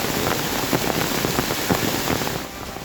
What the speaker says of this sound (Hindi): शिमला में बारिश भी इतनी तेज हुई जैसे सब कुछ अपने साथ बहा ले जाएगी।